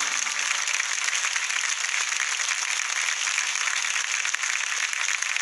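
An audience at a televised singing show gives a standing ovation after a song, steady dense clapping that holds evenly throughout at moderate loudness.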